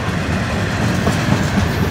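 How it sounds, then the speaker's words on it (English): Freight train container car rolling past close by, a steady loud rumble with rhythmic clickety-clack of wheels over rail joints throughout. "There goes a Merc rail car, or container car."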